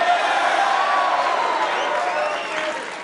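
Excited crowd at Donald Trump's 2016 victory speech in New York, cheering and applauding continuously for about three seconds, dense and loud throughout with no break, easing slightly near the end.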